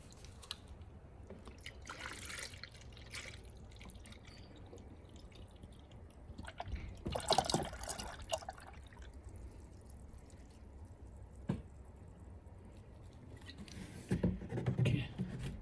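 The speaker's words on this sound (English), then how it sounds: "I'm gonna pour into the reservoir now." Coolant poured from a bottle into an Audi's coolant reservoir gives a soft, faint trickle and scattered drips, with occasional clinks and brief talk nearby.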